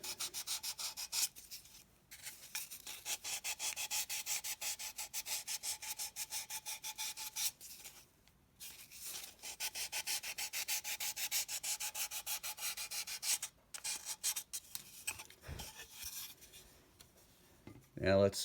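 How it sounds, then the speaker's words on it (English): A red plastic model rocket part sanded by hand to put a chamfer around its edge, a steady close scratchy rubbing in long continuous strokes with two short pauses and a brief handling knock near the end. "take this red piece and kind of sand a little chamfer all the way around."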